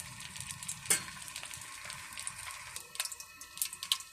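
Hot oil sizzles and crackles in a pan as cooking begins, a faint, uneven spatter with scattered pops and one sharper clack, heard alone without talk.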